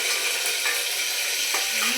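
Hot oil sizzles steadily in a home kitchen as asafoetida is added for tempering khichdi, a constant bright crackle with a few soft stirring clinks beneath it.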